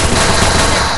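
Gunfire in the Free Fire battle royale game, a dense, continuous burst of loud rapid shots with no break, filling the whole moment at close range.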